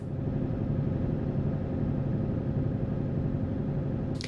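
A truck's diesel engine idles steadily in a truck-driving simulator, giving a constant low rumble with an even, unchanging throb throughout.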